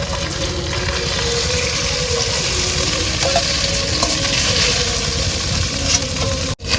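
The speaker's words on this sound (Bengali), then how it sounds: "এখন কিন্তু আলুগুলো ভেজে নিচ্ছি" Potatoes fry in oil with a constant loud sizzle and bubbling, punctuated by faint stirring clinks, ending abruptly.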